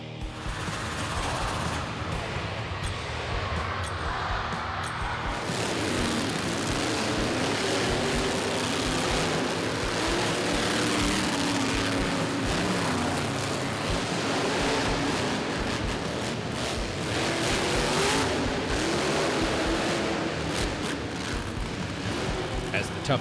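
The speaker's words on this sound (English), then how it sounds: "Toughest monster trucks thunder around the arena floor" Monster trucks roar around an indoor arena floor at Rupp Arena, a dense, continuous engine rumble that swells and fades for over twenty seconds, with an announcer talking over it.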